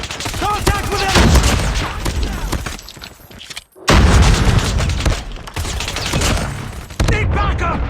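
LMG and pistol fire in COD Mobile crackle in loud, dense bursts of rapid shots with booming impacts, broken by a brief pause, while in-game voice callouts sound over the shooting.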